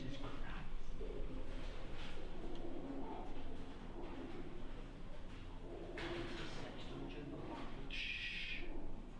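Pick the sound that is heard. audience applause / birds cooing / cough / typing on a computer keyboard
birds cooing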